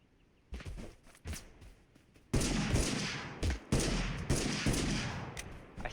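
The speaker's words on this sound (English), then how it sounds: "I think that's a deagle." Desert Eagle pistol shots in a video game: several sharp, loud bangs, sparse at first then a dense burst of overlapping gunfire with reverberant tails, no talking.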